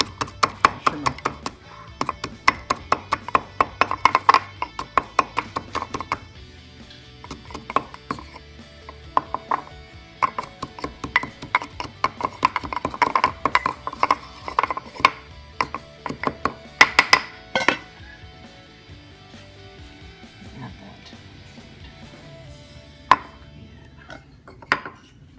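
A utensil mashing food at a home mealtime, with quick irregular tapping and scraping knocks that run for most of the stretch and then thin out to a few scattered clicks.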